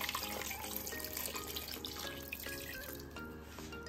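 Water is poured into a pressure cooker holding spices, chili powder, turmeric and salt in a home kitchen, a steady nearby trickle and splash lasting a few seconds, with faint tonal sounds in the background.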